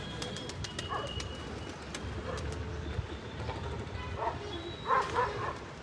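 Pigeons cooing in a loft setting, soft low calls repeating at a moderate distance, with a louder burst of cooing near the end over faint background noise and clicks.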